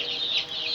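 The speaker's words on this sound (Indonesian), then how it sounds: "Ayam berkokok." A rooster crows in a single short, bright call, close and clear with nothing else sounding.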